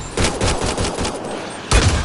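Gunfire in the Mass Effect Andromeda video game: a rapid automatic burst of close, loud shots, a brief pause, then another sharp volley.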